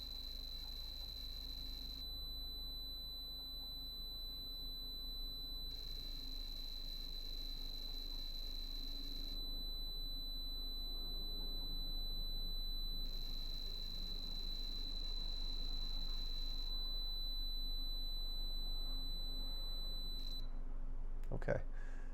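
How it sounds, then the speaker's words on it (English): A Sharp PC-1211 pocket computer sends data as steady high-pitched tones that switch on and off in long blocks over about twenty seconds, with a quiet voice and low hum underneath and a click at the end. "And the tones you're hearing are being generated by the PC-1."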